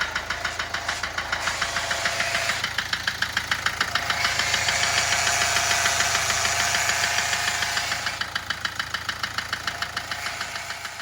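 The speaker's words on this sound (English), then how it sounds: "it's a noisy diesel" A 1.7 CRDi diesel in a Kia Sportage with a new turbo idles loudly, with a steady, rapid clattering knock repeating throughout and no talk.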